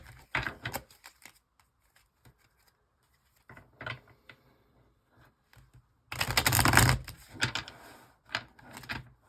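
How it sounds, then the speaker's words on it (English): Brisk riffle-and-bridge bursts of cards being shuffled, short crackling clusters separated by quiet gaps, with one longer loud flurry near the end. "my shuffling game is incredible"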